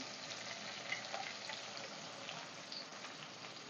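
Chopped onion hitting hot oil in a pan alongside chicken, a steady close sizzle holding for a few seconds with no talking.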